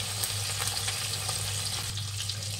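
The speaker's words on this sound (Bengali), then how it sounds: "এখন মাছগুলোকে আমি ভেজে তুলে নেব" Tangra fish frying in hot oil, a steady close crackling sizzle with small pops running throughout, no voices.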